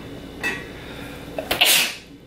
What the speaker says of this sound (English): I went to go sneeze in my shirt.